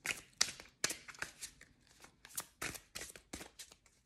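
Angel oracle cards being shuffled and drawn, close and fairly quiet, a quick irregular run of crisp riffling slaps and card flicks with no talking.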